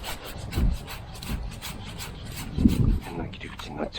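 A branch of a Japanese spindle tree being cut during pruning, heard as rough, rasping wood-sawing strokes, close and fairly loud, with a heavier stroke near the end.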